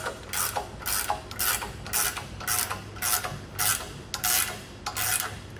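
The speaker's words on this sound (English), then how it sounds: "Grab our wrenches. Just begin to tighten that down." Close wrench ratcheting as a lock nut is tightened on a CE Smith post-style guide-on for a boat trailer, with steady repeated rasping strokes, each a short burst of clicks, and no talk.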